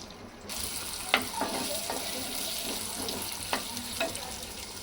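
Onion pieces and green chillies fry in hot oil, a continuous close sizzle broken by a few sharp stirring scrapes.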